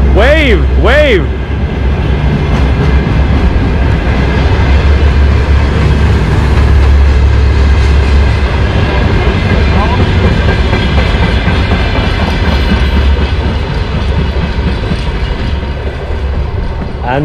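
Train rolling past at close range on a Riga railway line, with a steady heavy rumble, rhythmic clatter of wheels over the rails and brief metallic tones at the start, a continuous loud pass under some background voices.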